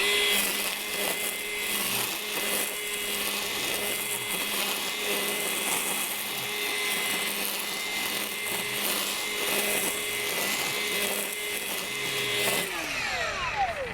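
A Milwaukee M18 FUEL dual battery string trimmer runs on high speed through thick, dense growth, giving a steady, loud whining motor drone with a faint, fluctuating cutting rasp that holds unbroken throughout.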